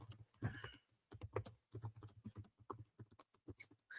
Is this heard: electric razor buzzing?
no